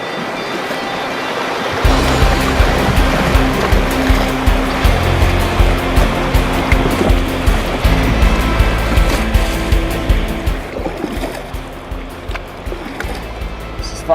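Loud, continuous rushing roar of class 2 whitewater rapids on the Haw River at a technical section, heard close up with steady churning surf and splashing that stays dense throughout after a brief quieter start.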